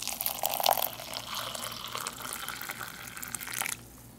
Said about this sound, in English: Go ahead and add the boiling water to that.